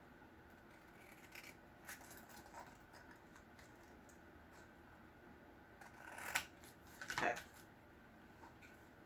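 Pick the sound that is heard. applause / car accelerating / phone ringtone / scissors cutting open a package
scissors cutting open a package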